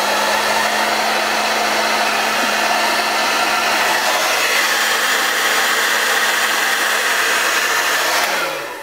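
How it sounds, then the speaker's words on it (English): A hair dryer blows with a loud, constant whirring roar throughout, then winds down at the very end as it switches off. "I'm going to turn on my hairdryer"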